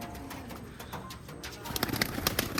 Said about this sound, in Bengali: আর এই খাঁচায় আরও কিছু পায়রা আটকানো আছে